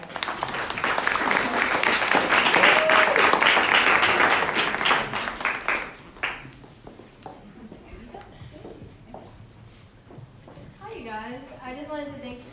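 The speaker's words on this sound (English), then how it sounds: "if everyone could just go ahead and give applause to Melody" An audience at a photography exhibit event claps in loud, sustained applause for several seconds, which then thins to scattered claps before a voice begins speaking.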